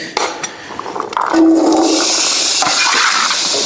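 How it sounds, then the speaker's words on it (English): Cajun trinity vegetables go into hot olive oil for pork jambalaya, and after a second a loud, steady close sizzle builds and holds. "We're just gonna saute that for about 7 or 8 minutes until everything's pretty soft"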